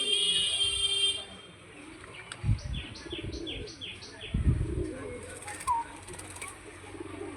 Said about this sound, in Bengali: ওটা দেখুন ধরা পায়রাটা কেমন করছে দেখুন।